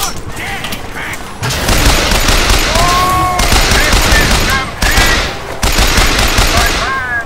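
Sustained bursts of rapid weapon fire in Bioshock Infinite, loud and close, coming in several long volleys broken by short pauses, with game sound effects mixed in.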